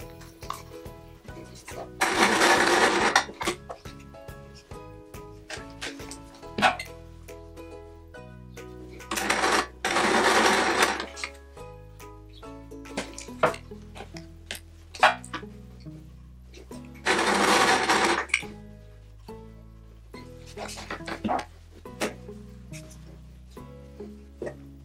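A sewing machine stitching quilt patchwork pieces, running in three loud bursts of rapid whirring stitches, with quieter handling clicks and fabric rustle between the runs.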